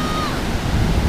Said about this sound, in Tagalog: because of bad weather, tingnan nyo, malaki pa lang yung alon